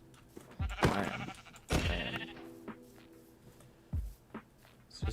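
Sheep in the Minecraft video game bleating in several short, clear calls spaced over a few seconds, close and distinct with no talk over them.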